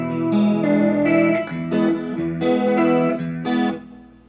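An electric guitar through a Peavey Vypyr VIP 1 amp on its twin preset plays rhythmic strummed chords with a chorus-like shimmer, several bright attacks in a steady pattern, close and loud, then fading at the end.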